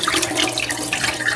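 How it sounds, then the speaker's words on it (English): Cold brew coffee pours out of a Ninja AutoBarista container in a short, steady splashing stream, close and fairly loud. "We'll just pour that out"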